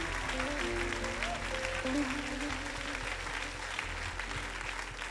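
Church congregation at a Sunday praise service applauding together, a dense sustained clapping with a low tonal hum and a faint voice underneath.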